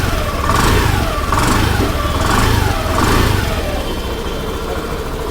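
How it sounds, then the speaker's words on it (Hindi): A 2020 Honda Dio BS6 scooter with an ACG starter runs close by at a fairly subdued exhaust note, revved in a few rising and falling pulses before settling to a smooth idle. "इसका एग्जॉस्ट नोट है।"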